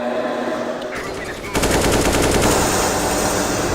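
Rapid automatic gunfire rattles in a CS:GO esports match as a player tries a wall bang, loud continuous bursts over crowd and caster noise.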